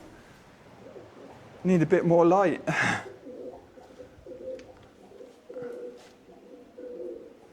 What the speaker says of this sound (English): that's the sound of pigeons, not bats